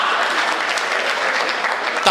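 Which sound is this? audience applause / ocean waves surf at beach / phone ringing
audience applause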